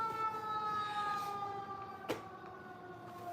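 Fire truck sirens wail at night past midnight, a steady tonal whine with harmonics heard at a distance, holding across the span with a sharp knock near the middle.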